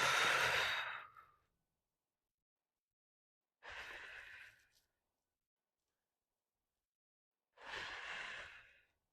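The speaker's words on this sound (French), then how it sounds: "Expire." Three long, breathy exhalations during a core and hip-hinge workout, spaced about four seconds apart with silence between, close and clear, the first one strongest.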